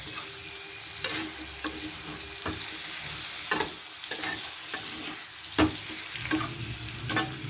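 Continuous sizzle of raw mango chutney frying in a pan, punctuated by sharp scrapes and knocks of a utensil stirring every second or so.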